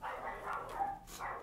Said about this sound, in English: You might be able to hear my dog barking.